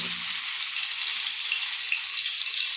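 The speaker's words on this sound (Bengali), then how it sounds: "এরপরে এর মধ্যে দিয়ে দেব" Koi fish sizzle in hot oil in a home kitchen, a loud, steady hiss of frying that continues evenly throughout with no talk.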